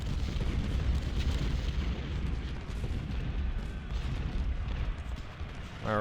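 Artillery cannon fire from Ultimate General: Civil War at the Perryville battle. It comes as a continuous, dense rumble of booms and gunfire with no distinct pauses, sustained at steady loudness throughout.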